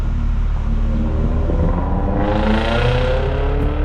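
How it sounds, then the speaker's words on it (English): A loud car engine revs and drones steadily up close, its harmonic roar rising in pitch partway through, with no talking. "That guy's car is a lot louder than mine."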